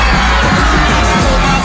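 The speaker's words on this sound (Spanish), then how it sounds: "¡Palmas para ustedes!" Loud, dense burst of cheering and yelling from a crowd of schoolchildren at a Peruvian TV game show, sustained and close.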